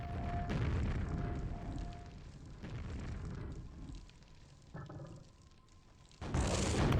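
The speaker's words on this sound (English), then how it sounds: "Okay, so careful with those rockets." Rocket explosions in a QuakeWorld duel, several heavy booms and bursts spread across the moment with loud low rumbles, ending in a sharp, bright blast.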